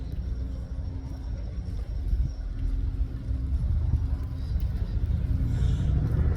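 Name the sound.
Ajax and Ares armoured reconnaissance vehicles driving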